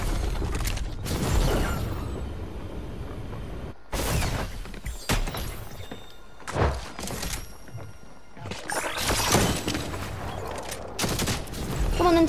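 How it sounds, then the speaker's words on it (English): A turret firing in Fortnite, with bursts of loud gunfire and mechanical clatter coming in uneven clusters separated by short quiet gaps, heard alone without talk. "Come on then, turret, shoot him!"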